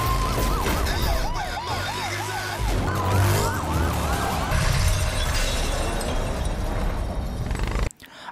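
Wailing police sirens rise and fall loudly through a film car chase, layered over a dense roar of engines and action noise before cutting off abruptly near the end.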